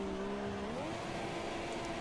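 An F1 car in the racing game F1 2017 spinning out on a penultimate corner, a steady engine drone shifting pitch as the revs swing, with a faint scrub of tyres beneath.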